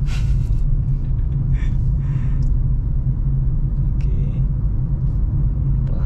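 A 2023 Suzuki XL7 Hybrid being driven with gentle acceleration, heard from inside as a steady low engine and road rumble, loud and continuous, with a few faint higher knocks and rattles and no talk.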